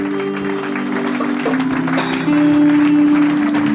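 A church congregation in Nantes claps and cheers steadily, with sustained musical tones ringing beneath the applause, which grows louder toward the end.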